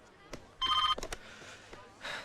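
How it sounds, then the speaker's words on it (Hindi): A brief electronic telephone ring bursts out, close and fairly loud, surrounded by a few sharp clicks and quiet background noise. "फोन बज रहा है।"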